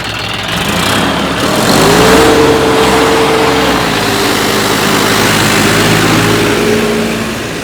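A John Deere turbo tractor engine revs hard at full throttle, a steady loud mid-pitched roar with a rising tone that holds and drifts, close by with no talk.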